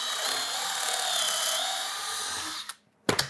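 A power drill drives pocket hole screws into wood while a shop parts storage rack is built. A loud, sustained whir runs for over two seconds, then cuts off, followed by a brief second burst.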